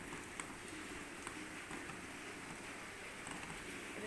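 Steady rainfall, a constant soft hiss and patter of drops with faint scattered ticks, moderately quiet and uninterrupted, with no voices.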